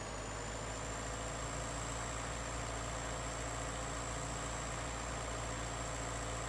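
A tractor engine idles in a survival video game, a steady low, heavy drone that holds evenly throughout with no talk over it.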